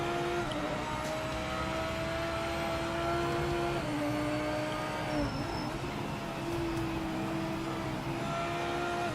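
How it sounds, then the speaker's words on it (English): A BMW GT3 race car in Project Motor Racing drones loudly and steadily, its engine note holding high with small pitch shifts and gear changes, alone throughout. "This BMW is loud as shit for no reason"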